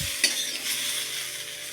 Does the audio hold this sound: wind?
no